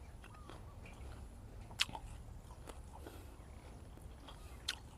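A seed-grown date palm fruit, astringent and only moderately sweet, is bitten and chewed close up, giving soft, sparse crunches and wet mouth sounds over faint outdoor background in a garden.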